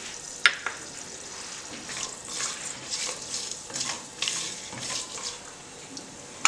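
Cashews and whole spices such as cloves, cardamom and shahi jeera frying in oil in a pan for catering-style veg pulao, a steady close sizzle with occasional sharper crackles and stirring scrapes.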